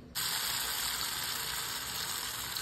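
Spice paste drops into hot oil with whole garam masala and a dried red chilli, and it bursts straight into a loud, steady, close sizzle with no talk.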